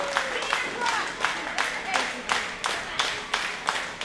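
Crowd at an independent pro wrestling event in Indiana, Pennsylvania, cheering and clapping in steady rhythmic bursts, filling the hall throughout under a voice talking over the noise.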